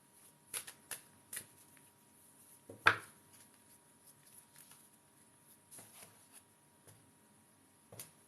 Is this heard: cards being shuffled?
yes